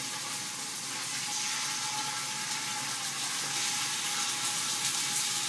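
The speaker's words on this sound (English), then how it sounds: "And this pan is hot, so I'm going to go ahead and grab the ribs" Ribs sear in hot olive oil in a pan, giving a steady, even sizzle that stays close and fairly loud for several seconds with no talk.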